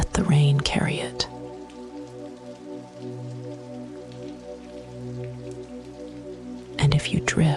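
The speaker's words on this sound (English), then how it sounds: "Let the rain carry it." Gentle rain on glass ticks faintly under a warm, sustained drone, with a soft murmuring voice at the start and end.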